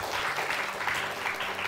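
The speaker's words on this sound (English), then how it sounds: "Want to give a lot of clap offering?" A church congregation claps in sustained, dense applause that carries steadily at the end of a service, with no talk over it.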